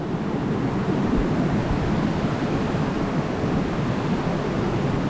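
Steady, loud rushing roar of water at Tiger Falls waterfall, a dense continuous wash of sound with no voices over it.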